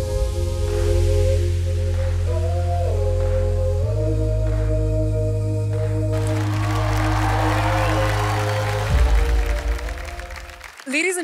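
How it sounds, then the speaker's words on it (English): Applause and crowd noise swell in the second half, layered under music and an announcer's voice over a loudspeaker at the Femina Miss India 2022 grand finale. "Round of applause, ladies and gentlemen"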